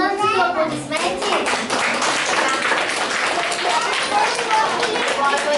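Applause from an audience of young children, with dense, steady clapping for several seconds and children's voices mixed in.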